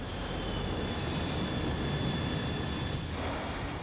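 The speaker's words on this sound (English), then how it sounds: "Now, the plane is dropping too quickly." A cargo jet airliner descending to land roars steadily with a broad, continuous jet-engine rush and faint high whine throughout.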